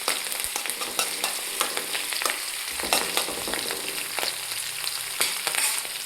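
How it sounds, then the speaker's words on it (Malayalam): Garlic, ginger and green chillies sauté in a hot pan for a date and lemon pickle, with a steady close sizzle broken by frequent scraping clicks from stirring. "ഇതിലോട്ട് നമ്മൾ വെളുത്തുള്ളി, ഇഞ്ചി, പച്ചമുളകും എല്ലാം കൂടി നമ്മളിന്ന് ഒന്ന് വഴറ്റാനായിട്ട് വെച്ചിട്ടുണ്ട്"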